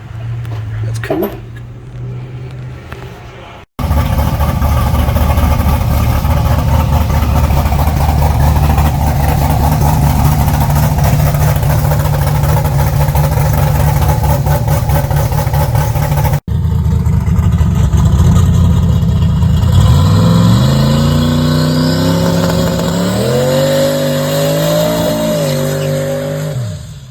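A car due for an LS engine swap, fitted with a Hyperspark ignition, runs loud and close, idling roughly before several sharp revs and a rising engine sweep.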